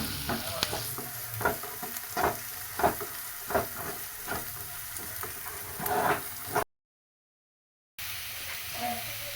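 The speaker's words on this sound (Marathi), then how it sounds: "आलं लसणाची पेस्ट टाकून घेते मी ह्याच्यामध्ये त्या कांद्यासोबत ते पण परतत आहे" Chopped onion and ginger-garlic paste sautéing in a pan for goat brain fry, with a steady sizzle broken by repeated scraping stirs, close and fairly loud, followed by a short gap of silence near the end.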